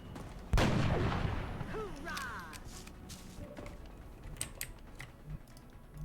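A single loud, sharp sniper rifle shot rings out in the XCOM: Long War strategy game, followed by a fading tail and faint, scattered game effects.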